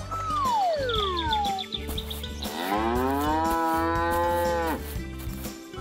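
A cartoon cow in an animated 3D farm prank comedy gives two long, loud moos, the first falling and the second drawn out, over a steady musical background with bird-like chirps.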